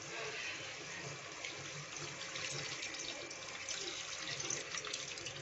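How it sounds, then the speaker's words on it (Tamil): Tamarind water is poured into a simmering okra tamarind curry, a steady liquid splashing and trickling that continues throughout at moderate volume with no talk over it. "இப்போ நம்ம கரைச்சி வச்சிருக்க அந்த புளி தண்ணியை குழம்புல ஆட் பண்ணிக்கலாம்."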